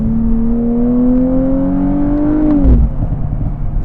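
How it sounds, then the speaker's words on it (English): Nissan Z Nismo exhaust droning loud and steady under acceleration while driving, the note climbing gradually before a sudden drop and crackle as the revs fall off near the end. "I love that way that exhaust sounds."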